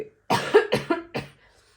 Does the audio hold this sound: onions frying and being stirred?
no